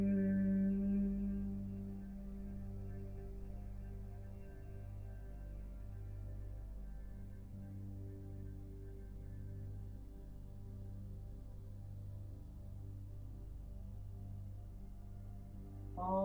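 A long, steady humming exhale of bee breath in Bhramari pranayama, a low sustained tone with harmonics, held evenly for about sixteen seconds, close and soft, with a voice imitating a bee's buzz.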